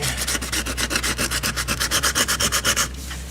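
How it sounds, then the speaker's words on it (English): Sandpaper scrubs over car body filler during a cheap auto body repair, a steady run of about twenty quick, even back-and-forth strokes, loud and close, ending abruptly with a brief quieter stretch. "Just gonna get some regular sandpaper, don't matter what."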